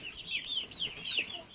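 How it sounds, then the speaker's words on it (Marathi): Desi village chickens on a Konkan backyard farm in Ratnagiri give soft, rising clucks and chirps, several quick calls close by with no talk. "कसले कोंबड्या आहेत, ते मस्त कोंबडा"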